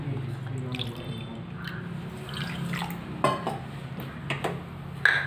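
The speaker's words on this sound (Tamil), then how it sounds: "சர்க்கரையை சேர்த்து இதில் 1 கப் அளவுக்கு தண்ணி ஊற்றிக்கலாம்." Water poured from a cup onto sugar in a heavy-bottomed pan while making Bombay halwa, a wet, splashing trickle with small drips and a few light clinks of the pan across several seconds.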